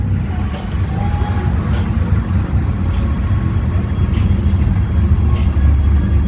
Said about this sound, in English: Got the turbo Frankenstein Camaro.